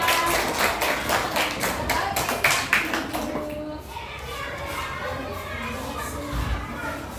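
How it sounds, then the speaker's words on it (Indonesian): Third-grade primary school pupils clapping in a classroom, a short burst of rhythmic claps for a few seconds that fades into quiet room noise with faint children's voices and a soft thump. "Tepuk tangan."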